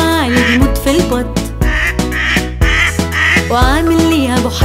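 Duck quacks woven into an Arabic children's song, short repeated calls over loud, busy music.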